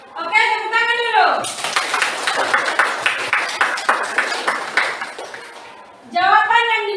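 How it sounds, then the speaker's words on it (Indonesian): Classroom of pupils applauding together for about five seconds, a dense burst of many hands clapping, bracketed by a teacher's voice talking before and after. "Oke, tepuk tangan dulu."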